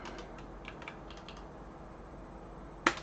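Sparse, faint keystrokes on a keyboard, a few soft clicks over steady background hiss, ending with one sharper, louder tap.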